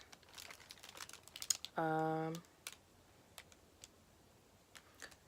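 Big scissors cut through cardboard in one sustained, fairly loud crunching stroke lasting under a second, set between faint handling clicks and rustles in a quiet room.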